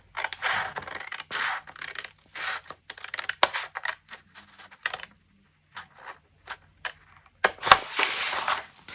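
Scissors cut across the waist of a paper sewing pattern in a series of crisp, close snips and crunches with short pauses between them, ending in a louder burst of cutting.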